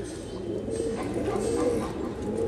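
Pigeons cooing steadily at close range: a Kalmuha cock and a Bajri hen with spotted markings, low soft coos rolling on for the whole stretch with no talk over them.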